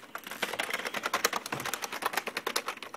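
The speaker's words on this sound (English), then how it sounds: "Keyboard presses." Rapid, continuous key presses on a keyboard connected to a Mac Mini, a close, crisp clatter of many taps in an uneven rhythm with no voices.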